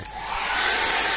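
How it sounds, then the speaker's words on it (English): A hair dryer blows steadily at close range to dry acrylic paint, a loud continuous whooshing hum that rises slightly as it starts. "And hair dryer it until it's dry"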